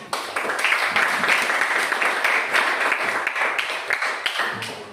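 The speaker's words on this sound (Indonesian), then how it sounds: "berikan tepuk tangan kelompok 4" A classroom of students claps for a discussion group, a dense, steady patter of many hands filling the space with no talk over it.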